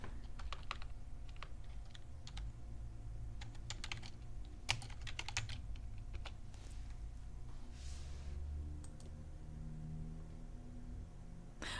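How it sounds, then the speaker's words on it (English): Keys clatter on a computer keyboard in irregular bursts of quick taps, fairly faint and close, over a low steady background hum with no talk. "My mic is in the way of my keyboard."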